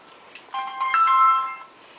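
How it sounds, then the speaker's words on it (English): A phone ringtone for an incoming call plays alone in a home kitchen during baking, a bright melodic tone that swells for about a second and a half and then fades. "Ooh, the phone call. Let's see who's calling."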